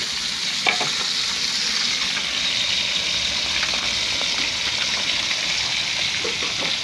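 Galunggong, round scad fish, frying in a pan with a steady loud sizzle and crackle of hot oil, dotted with small pops throughout and no talking.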